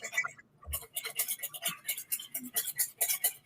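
A balsamic vinaigrette whisked by hand in a bowl, with quick, uneven metallic clinks and scrapes of the whisk against the bowl running throughout, fairly close and moderately loud.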